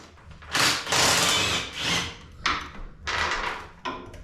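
An impact wrench works a motor mount nut on a Harley Davidson Dyna motorcycle in several loud rattling bursts separated by short pauses.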